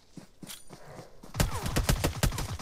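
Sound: gunfire in the video game PUBG

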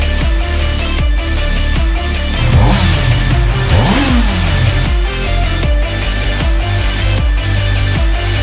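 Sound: Honda CB650R motorcycle engine revving

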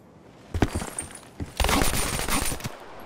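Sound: gunfire, from the video game Black Ops 3

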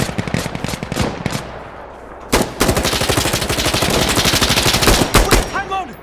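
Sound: gunfire in the video game Insurgency Sandstorm

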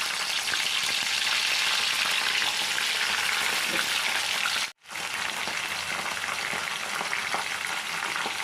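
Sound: green garlic frying in hot ghee

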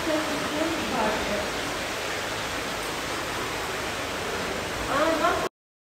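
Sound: waterfall inside a cave

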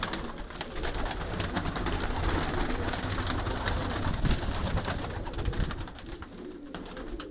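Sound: pigeons cooing

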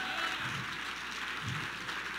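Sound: audience applause at keynote

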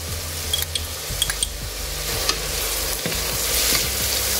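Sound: sautéing onions with grated ginger and garlic

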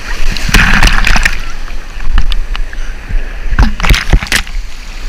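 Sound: paddling a surfboard and splashing in a wave

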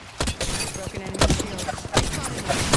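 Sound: gunfire in Apex Legends video game

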